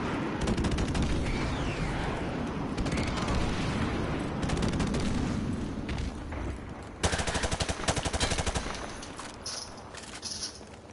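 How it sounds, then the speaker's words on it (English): Airstrike in a PS4 shooter game: rapid bursts of gunfire and explosive rumbles recur throughout, with a louder cluster of crackling blasts late on, fairly distant and muffled. "Friendly airstrike on the way."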